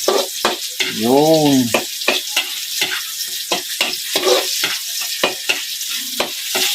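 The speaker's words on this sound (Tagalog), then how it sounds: "igigisa lang muna natin yung tahong" Mussels sautéing in a hot pan, a steady crackling sizzle with stirring clatter and scraping throughout, punctuated by a brief voice and other short noises.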